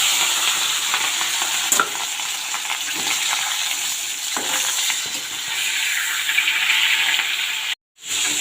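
Rohu fish head frying in hot oil in a wok, a loud, steady sizzle throughout with faint stirring scrapes, then a sudden brief dropout of sound near the end.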